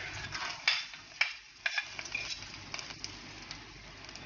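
Chopped garlic fries in extra virgin olive oil in a pot, giving a soft, close sizzle with scattered crackles and stirring scrapes, fairly quiet and with no voice over it.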